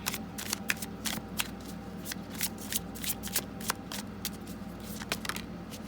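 A deck of tarot cards being shuffled by hand, a close series of crisp riffling bursts and soft slaps in an uneven rhythm, quiet and alone without talk.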